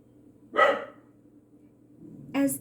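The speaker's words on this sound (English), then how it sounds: "as the dog barks" A dog barks twice in a quiet room, a single loud woof followed about two seconds later by another, with no talk over it.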